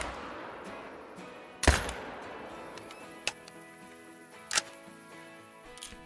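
Three sharp rifle shots fired at long range in the hunting game Call of the Wild, loud and isolated, each ringing with a brief echo over a quiet outdoor background.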